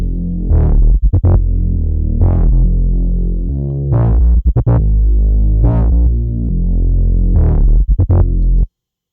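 Two deep, growling dubstep synth basses made in Logic Pro X's ES2, layered together, wobbling and throbbing in distorted pulses with short gaps, loud and close, stopping abruptly at the end.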